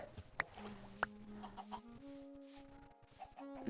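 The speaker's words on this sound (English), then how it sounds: "And we have our chickens here." Soft clucking from a few Minecraft chickens, with brief higher squawks early on and a steady low hum underneath; no talking.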